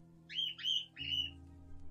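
A parrot gives three short, shrill squawks in quick succession during the first second, loud and close, followed by quiet background hum with no talking.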